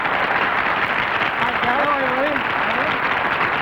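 A studio audience at a 1960 television game show applauds steadily throughout, a dense even wash of clapping with a voice heard over it.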